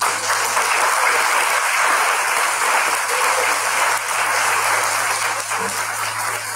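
Loud, sustained applause from an audience at the opening of an international psychology seminar, a dense steady wash of clapping lasting several seconds with no voices over it.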